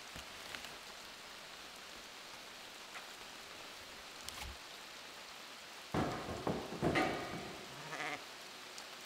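A few sheep bleat in bursts toward the end, over steady background hiss like light rain; the calls are moderately close and fairly loud.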